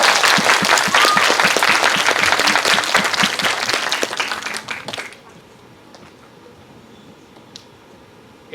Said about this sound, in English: let's give grade 10's drama a big round of applause